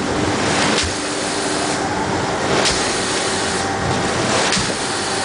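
Red wine in a fermenting tank churns and splashes as a Pulsair pressurized air cap-mixing system pushes air through it at about 80 to 90 psi, making a loud, continuous rushing and bubbling wash with periodic surges.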